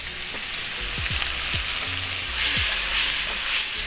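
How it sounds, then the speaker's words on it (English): Garlic, ginger, carrots and peppers fry in a hot wok with a steady, close sizzle, broken by a few short scraping stirs. "Now in with our garlic and ginger, as well as our carrots and our peppers."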